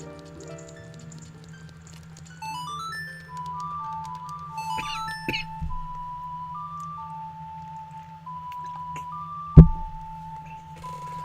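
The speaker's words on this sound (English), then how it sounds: "I gotta wonder if ocarinas really sound like this." A gentle ocarina melody from the video game Ocarina of Time plays as sustained stepwise notes over a low steady hum, with a few soft clicks and a sharp thump near the end.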